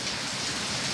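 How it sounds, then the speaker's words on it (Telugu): Heavy rain pours down in a dense, steady wash during a thunderstorm, loud and close without any pauses. "చూడండి ఎలా పడుతుందో వర్షం."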